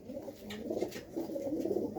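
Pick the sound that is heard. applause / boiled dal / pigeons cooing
pigeons cooing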